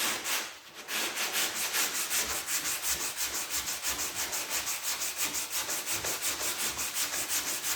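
Rhythmic back-and-forth sanding strokes rasp steadily across old lacquer on a Huon pine sailboat, close and continuous, with a brief pause near the start before the even strokes resume.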